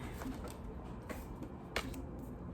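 Soft, papery tarot card shuffling with a few sharper flicks and riffles, close by and fairly quiet, no talking.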